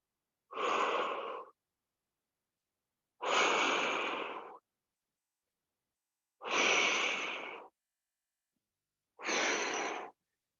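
Four forceful breathy exhales, each about a second long and evenly spaced a few seconds apart, close and clear with silence between, as someone works through a core exercise.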